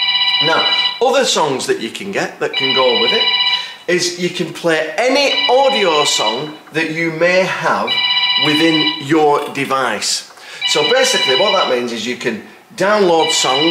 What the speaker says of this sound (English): Excuse my phone in the background, I forgot to turn it off, I'll just switch it off now.